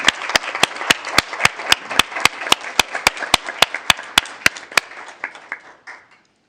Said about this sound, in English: We should give the entire team a round of applause.